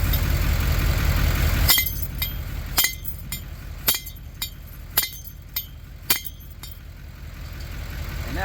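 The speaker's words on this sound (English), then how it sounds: "Just take my hammer." Hammer beating an old wheel stud out of a hub on a 2012 Chevy Silverado 3500HD dually in a parking lot, about eight sharp metallic clanks spaced roughly a second apart over a low idling rumble.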